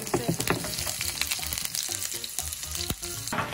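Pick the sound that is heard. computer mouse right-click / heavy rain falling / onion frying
onion frying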